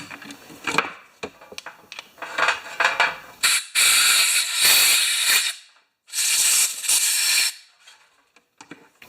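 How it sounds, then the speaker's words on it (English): Compressed air is blown through a Tecumseh carburetor emulsion tube from a Craftsman 7.75 HP self-propelled mower, giving loud close hissing bursts of two long blasts with shorter puffs and clicks around them. "I wonder if I can spray that out with air."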